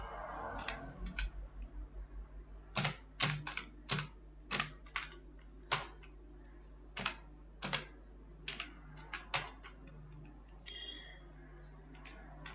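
An employee name is typed into an Excel salary sheet on a computer keyboard, a sparse series of distinct close key clicks at uneven intervals over a quiet background.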